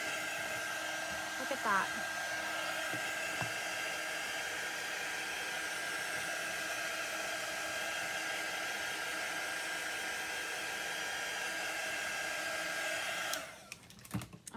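A hair dryer blows steadily for about thirteen seconds, drying chalk paste on a snowflake cutout decoration, loud and constant, with a brief spoken remark early on before the dryer cuts off near the end.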